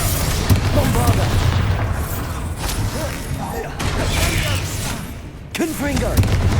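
Bursts and booms of a Bombarda blasting spell in the Hogwarts Legacy video game, heavy impacts and crackling debris mixed with battle noise and voices, several hits over the span.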